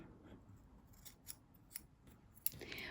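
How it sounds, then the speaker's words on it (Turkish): Several soft, crisp snips of scissors cutting yarn, close and quiet, spaced out over a few seconds with a sharper final cut and faint rustling after. "İpimi kesiyorum."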